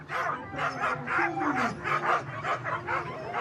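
Harnessed sled dogs bark and yip excitedly before a race at a mountain ski station, a dense close chorus of rapid overlapping barks and whimpers.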